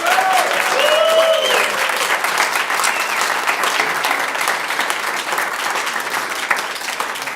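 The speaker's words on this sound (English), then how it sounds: "So if you clap during testimony, during the public comments, we're not picking that up on the recording. We're only picking up the clapping." Sustained clapping from the audience at a town council meeting fills the room, loud and continuous throughout, with no one speaking over it.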